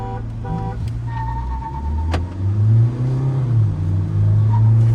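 A Mahindra Scorpio N and a Mahindra XUV700 race in a drag race. Engine noise rumbles near and loud, swelling into a strong acceleration roar after a sharp click midway, with a few brief tonal beeps at the start.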